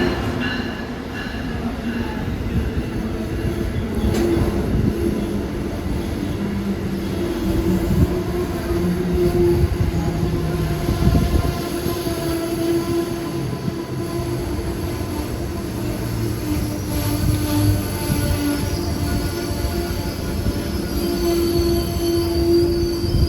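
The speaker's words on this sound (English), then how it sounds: "here comes Amtrak 182 for New York," Amtrak 182, bound for New York on the Northeast Corridor near Baltimore, rolls past close by with a steady roar, rumbling wheels and recurring high squeals that carry on throughout.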